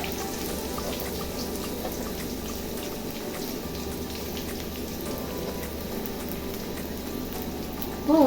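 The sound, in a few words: onion sautéing in a pan for beetroot poriyal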